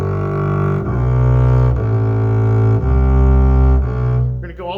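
Bass guitar plays diatonic double stops in thirds, each pair sustained for about a second as the line steps through the scale, deep and resonant, close and alone.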